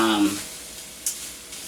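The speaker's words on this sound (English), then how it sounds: "I'm just going to stir this just enough" Ground beef coated in spices sizzles softly in a pan over low heat with a light scraping stir, and a voice talks briefly over the frying at the start.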